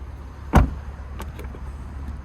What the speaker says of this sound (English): Now your child locks on either back door, lock, unlock.